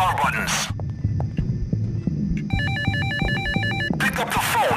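A telephone trills in a rapid electronic double-ring pattern during a PAYDAY hospital heist level, heard over a low throbbing heartbeat-like hum, with brief bursts of voices or noise at the start and end.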